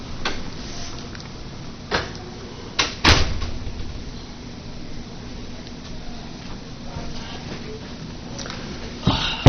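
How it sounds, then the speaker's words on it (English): A door is shut in a quiet room before an oral history interview, several soft knocks and handling bumps ending in a firmer closing thud, with faint room noise throughout. "I'm going to shut the door so you don't"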